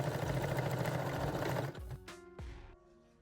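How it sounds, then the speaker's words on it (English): A sewing machine runs a small zigzag stitch on garter belt lingerie fabric, a steady close whir for over a second, then short stop-and-go bursts as it reverses forward and backward. "stitch them down with a small zigzag stitch. I'm going just forward and backward."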